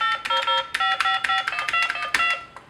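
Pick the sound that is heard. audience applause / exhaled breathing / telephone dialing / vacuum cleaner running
telephone dialing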